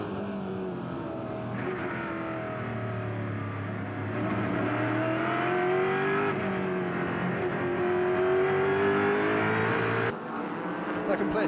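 Champ Car race cars on a track in Toronto, heard from onboard behind the championship leader's car as a teammate tries to pass. A loud, steady engine drone fills the whole stretch, rising in pitch, with commentary-like talk over it.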